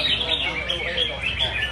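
A caged songbird sings at the final of a bird singing competition, its rapid bright chirps and trills carrying on continuously for a couple of seconds at close range.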